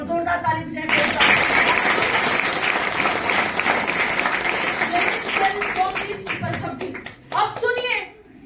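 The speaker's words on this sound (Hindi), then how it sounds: "जोरदार ताली बजाएं।" Church audience breaking into loud, sustained applause at a Hindi sermon, dense clapping filling the room for several seconds before thinning out, with a brief burst near the end and voices mixed in.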